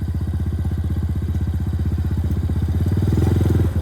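An Icebear Champion 125cc motorcycle, a CT70 clone, rumbles close up with a fast, even thumping exhaust pulse while engine braking on the road, its pitch easing slightly and grinding louder toward the end.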